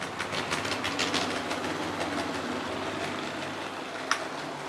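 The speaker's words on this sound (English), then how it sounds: "So there's always a train somewhere within a few seconds running on the layout." Steady rumble and rhythmic clicking of a model train running along its track, continuous and fairly close, with a sharp click near the end.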